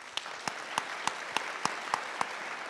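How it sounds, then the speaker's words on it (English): Audience applause after a Q&A session, a continuous wash of clapping with a few louder single claps standing out at a regular pace. "We get one more round of applause."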